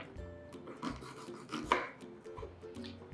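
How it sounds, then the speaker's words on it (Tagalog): Banana being sliced with a knife, with a few soft cutting sounds, one sharper cut near the middle, and quiet kitchen handling noise between them. "Hiwain natin mabuti ang saging"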